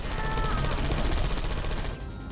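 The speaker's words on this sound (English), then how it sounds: "I heard gunfire" Rapid gunfire in a Portal 2 video game session, a dense continuous burst of shots that fills the whole clip at steady loudness, with some voice-like sound mixed in.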